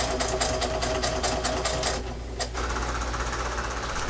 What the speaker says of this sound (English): don't pull your fabric, let your machine do the work for you